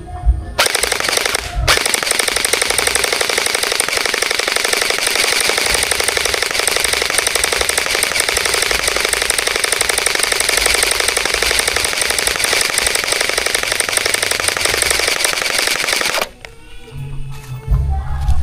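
Bohan MK8 airsoft gun firing full auto into cardboard, a long continuous rattling burst lasting about fifteen seconds, loud and close, followed by brief quiet handling noise.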